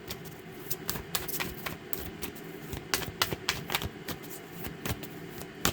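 Tarot cards being shuffled during a weekly reading, a quiet run of fast irregular riffling and snapping bursts that continue throughout, close and fairly soft with no talking.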